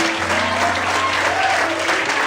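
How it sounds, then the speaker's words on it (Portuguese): A church congregation applauds God during a pastor's evening sermon, thick continuous clapping heard up close and loud, with a low organ-like drone beneath it. "Será que você pode aplaudir o Senhor?"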